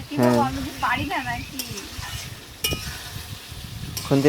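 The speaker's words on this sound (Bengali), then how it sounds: "টিনা কিন্তু খুন্তি নেড়ে রান্নার ভাগ নিচ্ছে" A spatula stirs thin country-chicken curry in a pan, making soft scraping clinks and a faint sizzle close by. People talk over part of it.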